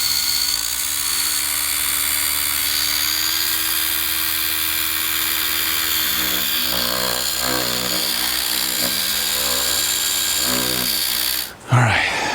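A polishing pad machine grinds steadily across a car hood to strip an old ceramic coating, a continuous close motor whine lasting several seconds before cutting off abruptly at the end.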